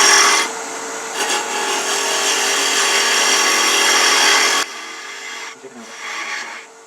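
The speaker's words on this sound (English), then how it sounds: "I'm using my 3/8 inch spindle gouge" A 3/8 inch spindle gouge cuts spinning wood on a lathe, giving a loud, continuous raspy scraping that runs for several seconds, then drops off and returns more faintly.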